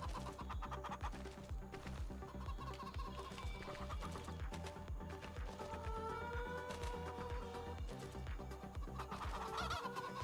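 Chickens cluck continuously around a coop in Farming Simulator 25, a dense, busy flock chorus over a steady background with no talk.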